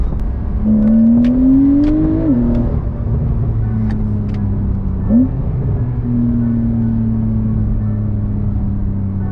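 A Porsche 911 Carrera S engine revs and pulls hard, boost kicking in around 5,000 RPM, its pitch climbing steadily then dropping at a gear shift before settling into a steady drone, loud and close.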